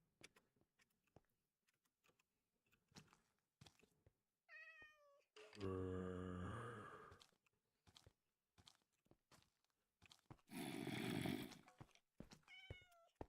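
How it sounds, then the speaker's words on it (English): A tamed cat in the Minecraft video game meows several times, with two long, loud cries standing out over quick, soft clicking that runs throughout. "Finally tamed the cat."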